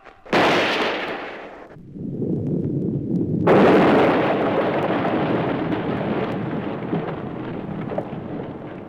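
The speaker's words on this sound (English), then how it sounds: "the noise from your pistol will bring this entire mine down on you" A sharp pistol shot rings out inside a mine, then a long rumbling roar of rock collapsing into rubble builds and slowly fades, a loud staged sound effect for a radio comedy serial, with no voices.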